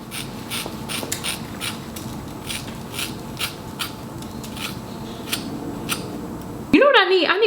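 Scissors snip wig hair in a series of close, crisp cuts at a regular pace, followed by a brief burst of loud noise at the end.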